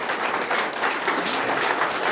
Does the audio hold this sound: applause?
yes